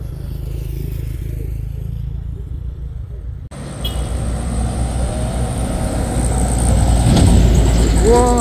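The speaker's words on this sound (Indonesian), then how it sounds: "Wah, trailer balap." Heavy trailer trucks racing uphill at Bukit Kodok, a Fuso against a Hino, with a loud, steady diesel roar that swells and climbs as they pass close by, under wind noise and occasional talking.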